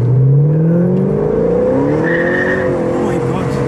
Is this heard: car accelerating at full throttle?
yes